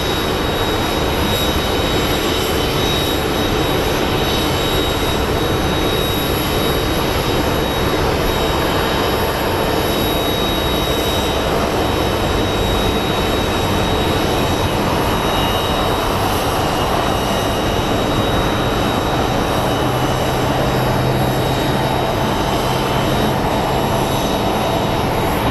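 American Airlines Airbus A319 jet at Phoenix Sky Harbor airport, a loud steady broadband engine roar sustained throughout with no talk over it.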